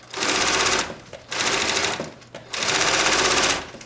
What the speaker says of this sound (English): I like to sew over these seams going down if I can.